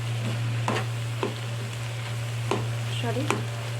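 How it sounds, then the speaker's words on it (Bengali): Potato and cabbage fry in a pan with prawns for a Bengali dish, giving a continuous sizzle broken by several scraping stirs of a spatula, heard up close over a steady low hum. "আলু আর বাঁধাকপিটা ভাজা ভাজা হয়ে আসছে।"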